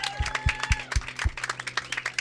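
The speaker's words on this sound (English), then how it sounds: "we'll give her a round of applause" Audience applause at a ceremony honoring a check recipient, a steady patter of many hands clapping at moderate distance, with a few louder low thumps near the start.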